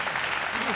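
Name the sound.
wrestling crowd applauding in Sendai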